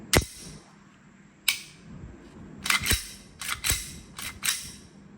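Several sharp plastic clacks and snaps, spaced irregularly, close up with no talking, from an airsoft Glock pistol slide being pulled back and released.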